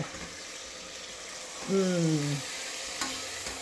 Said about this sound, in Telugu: ఫ్రై చేయి మిక్స్ వెల్